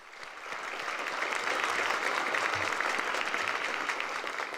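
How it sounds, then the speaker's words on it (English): Audience applause for graduates at a high school awards ceremony, a steady wash of many hands clapping that swells quickly and holds for several seconds, moderately loud and without speech. "let's hear a round of applause for our amazing graduates this year"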